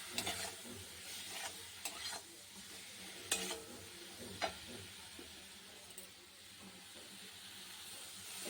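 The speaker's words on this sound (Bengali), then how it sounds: "মশলাটা কষানো হয়ে গেছে" Chili and spice paste with a little salt sautéed and stirred in a pan, a soft steady sizzle with a few sharp scraping clicks of the spoon, faint and close.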